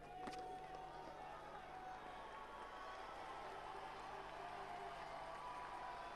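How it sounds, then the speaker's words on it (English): Crowd at a Pakistan versus West Indies cricket match cheers loudly and steadily, a broad roar of voices filling the stadium without pause. "Gets a loud cheer from the crowds."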